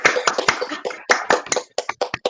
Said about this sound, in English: Can we all unmute our mics and give a virtual round of applause, please?